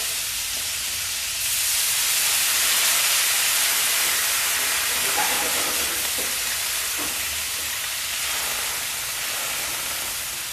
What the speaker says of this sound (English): I'm going to take my white wine, and again, being very careful, I'm going to tip my pan